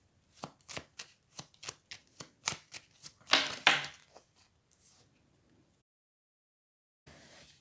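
Lenormand fortune-telling cards are shuffled with a quick run of about a dozen crisp, close riffling snaps, then a longer sliding swish as cards are drawn, followed by near silence and a brief soft rustle at the end.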